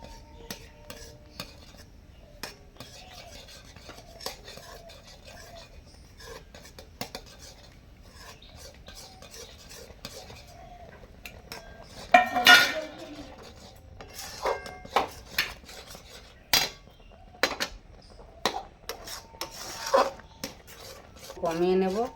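A sandesh mixture of milk, milk powder and ghee-fried besan is stirred in a pan, with irregular metallic scrapes and clinks of the spoon against the pan, sparse at first and growing busier and louder.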